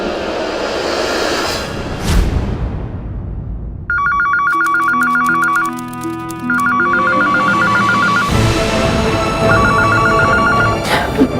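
Phone ringtone ringing in bursts of bright electronic trills, with whooshing transition sounds and background music between the rings.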